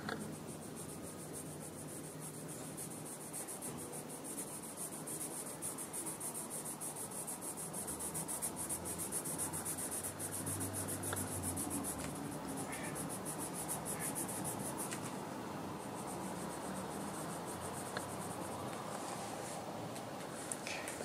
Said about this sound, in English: I'm going to do the same thing with the black pencil